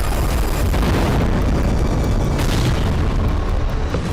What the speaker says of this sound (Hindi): चारों तरफ अंधेरा और इसी बीच एक जोरदार ब्लास्ट।